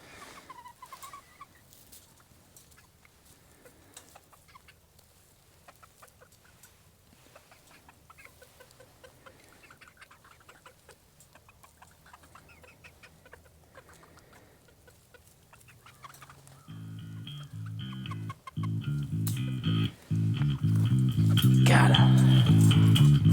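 Farm chickens cluck and cackle faintly at first, then grow loud and close near the end, with rustling and scattered noises throughout.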